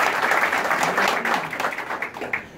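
An audience at the opening ceremony of a chamber of commerce building in Pazar claps in a short, fairly loud burst of applause that thins out near the end.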